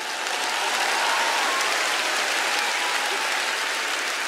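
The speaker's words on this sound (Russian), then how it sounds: "Аплодисменты." Sustained, dense applause fills a comedy show hall for a League of Laughter game, a large audience clapping loudly and evenly for several seconds without a break.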